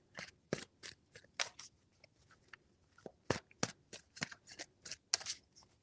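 Tarot cards being shuffled, heard close up as several short, crisp riffling bursts separated by brief pauses.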